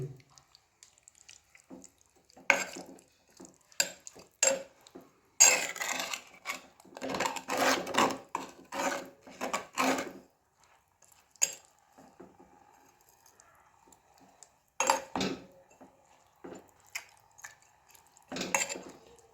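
Marinated chicken being stirred in a pot with its released juices, soft wet squishing and scraping in irregular bursts, close but fairly quiet, with pauses between strokes.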